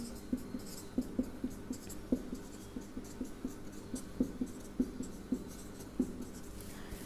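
Pen or chalk strokes write out a sequence of segment numbers during a biology lesson, a close series of short irregular taps and scratches spread over several seconds with no talking.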